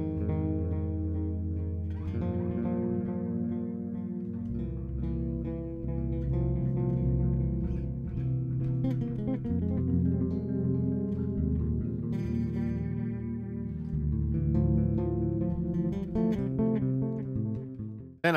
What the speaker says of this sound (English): We have a tape delay that sounds like this.